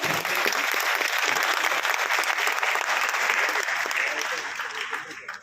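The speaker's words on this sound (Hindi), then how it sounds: "जोरदार होनी चाहिए तालियां।" An audience at a celebration programme stage event in Kolkata breaks into loud, sustained applause, a dense wash of many hands clapping that holds steady for several seconds before tapering slightly at the end.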